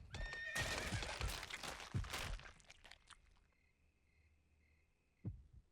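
A horse from the Vita game Yomawari: Night Alone gives a loud, drawn-out whinny over the first few seconds. It fades into a thin lingering tone and ends with one soft thump.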